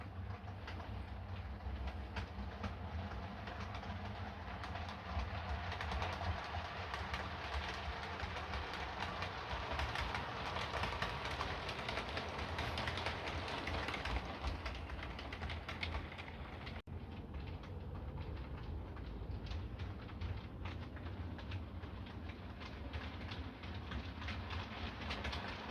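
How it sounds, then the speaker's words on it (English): An Accurascale class 31 model locomotive, 31105, runs past on a model layout with a Network Rail PLPR test train behind it. Continuous rolling rumble and clickety-clack of wheels hold steady throughout, with a brief sharp click partway through. "Here comes the network rail PLPR train with 31"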